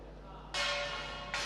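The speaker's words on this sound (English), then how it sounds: "And there's the bell." A bell sounds at the end of a chess round in a chessboxing world championship bout, a bright ringing strike that sustains, then a second strike near the end, over a quiet hall.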